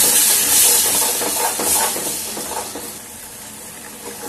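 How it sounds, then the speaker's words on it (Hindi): Tomato paste stirred into a sizzling raw papaya curry masala in a hot pan, with loud, steady frying hiss and scraping stir strokes throughout. "अब हम इसमें टमाटर का जो पेस्ट बना था वो हम इसमें ऐड करते हैं"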